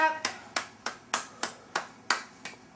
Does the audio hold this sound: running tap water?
no